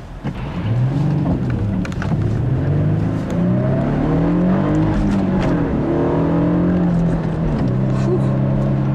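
A 2007 Infiniti G35S with a six-speed manual on a test drive, its engine droning loud and near as revs rise and fall through gear changes, with someone talking over it.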